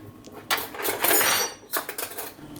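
Metal spoons and cutlery clatter and jingle in a kitchen drawer while someone rummages for a spoon, with a longer burst of rattling followed by a few lighter clinks close by.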